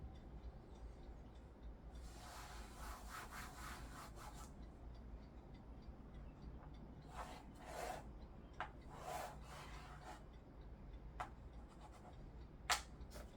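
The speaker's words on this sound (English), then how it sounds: "I need to write down that this is number 10" A pen or pencil scratches across paper while an answer is written down in a maths lesson, with soft rubbing strokes in bursts and a few sharper taps, quiet and close.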